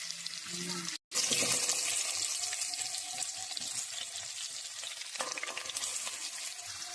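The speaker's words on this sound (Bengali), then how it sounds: "আলুগুলোকে নুন হলুদ দিয়ে আমি একটু হালকা ভেজে নেব" Potatoes seasoned with salt and turmeric are frying in mustard oil in a pan, giving a steady sizzle with a few stirring scrapes and a brief dropout near the start.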